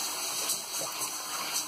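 Water pours steadily into a multicooker pot for buckwheat porridge, a close, continuous splashing wash with a faint steady hum behind it, no talking.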